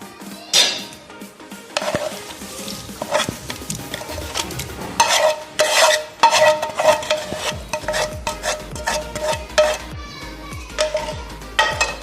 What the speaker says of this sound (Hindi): अब हम इसको अच्छी तरह मिक्स कर लेंगे